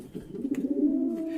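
Pigeons give a combined cooing call as a sound effect in a told story, a steady low murmuring coo that swells and holds for over a second, close and fairly loud with no talk over it.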